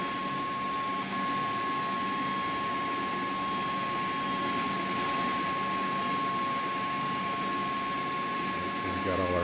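Twin-turbine engines of a CH-47D Chinook helicopter in X-Plane 11 spin up with a steady loud broadband roar and whine, with tonal hums, running continuously under cockpit procedure talk.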